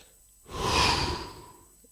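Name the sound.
deep breath in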